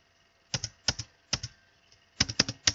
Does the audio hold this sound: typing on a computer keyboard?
yes